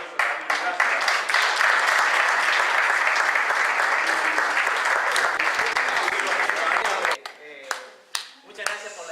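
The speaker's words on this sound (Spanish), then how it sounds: "un aplauso a Ramiro, gracias." A gathering applauds a provincial Prohuerta coordinator at an INTA Pro Huerta meeting, a dense sustained wash of clapping that cuts off sharply near the end, leaving a few scattered claps and small noises.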